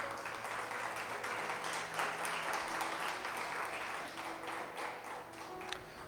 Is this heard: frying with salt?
no